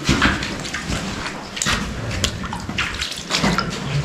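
Water splashing in an underground tunnel at a former concentration camp site, irregular sloshing and splashes from wading feet, close and echoing, with no voices.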